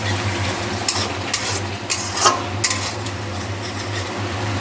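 Spices and onion fry in a pan for a Bengali tangra fish curry, a steady soft sizzle broken by several sharp clinks and scrapes of a utensil against the pan, with a low hum running underneath.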